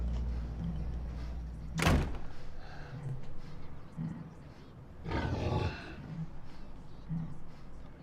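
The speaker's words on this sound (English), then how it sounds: "Close the door." A motel room door swings shut with a sharp, close thud, followed a few seconds later by a second, longer rumbling knock over a steady low background hum.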